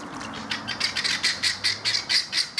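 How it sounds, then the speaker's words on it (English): Cape Barren geese call nearby in a rapid series of about ten harsh, honking squawks, loud and clear with no talking. "a couple of geese that are not happy with us"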